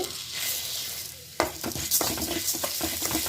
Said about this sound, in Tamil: இது நல்லா ஃப்ரையாக இருக்கும்